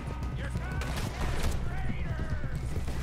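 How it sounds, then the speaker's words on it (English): Rapid, dense gunfire in Red Dead Redemption 2, with overlapping shots crackling continuously and a voice talking over the shooting. "Oh, and Micah's shooting at us too"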